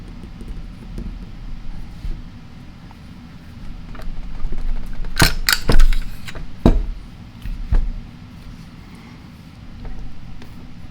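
A SIG Sauer pistol's slide slides off the frame after the takedown lever is pivoted down, giving a quiet shuffle broken by a tight cluster of sharp metallic clicks and clacks, then two more isolated snaps.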